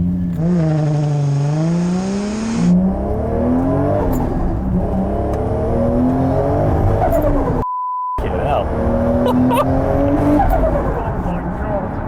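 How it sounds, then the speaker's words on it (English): A turbocharged 720hp Mk4 Toyota Supra engine revs up hard with rising pitch, a high turbo whine climbing over the roar, then drops and surges again, loud and close. "It's when that turbo spools up."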